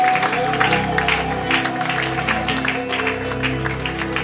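A church congregation applauds and cheers in praise, a dense steady wash of clapping and voices over music with held tones, loud and continuous throughout.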